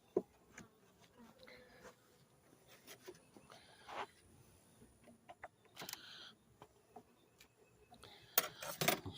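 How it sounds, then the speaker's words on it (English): Honeybees in an open beehive, heard as a scattered, close buzzing with brief swells and passes, with faint intermittent knocks and handling sounds around it. "you see a lot of bees in there"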